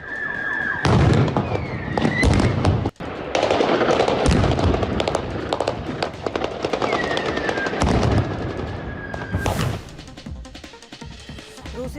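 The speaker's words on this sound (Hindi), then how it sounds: "गोलियों की आवाज से मचा कोहरा।" Rapid gunfire from Russian troops firing on civilians in the town of Enerhodar crackles in dense, overlapping bursts, loud and close. A warbling siren rises and falls through the shooting, and a brief gap comes before the bursts resume and then thin out.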